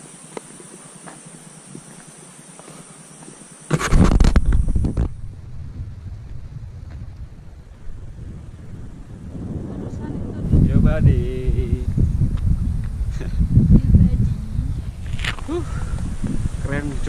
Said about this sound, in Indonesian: Anginnya lumayan kenceng karena angin dari timur.